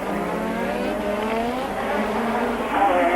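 Alain Prost's McLaren Formula 1 car at the 1986 Monaco Grand Prix, engine note steady and loud throughout with a harmonic whine, swelling slightly near the end as it races on.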